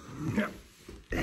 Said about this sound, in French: c'est un chien qui est pas mal âgé